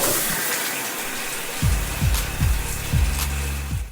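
Water runs steadily in a shower, a close, continuous hiss with a few low rhythmic thumps or gurgles repeating in the second half.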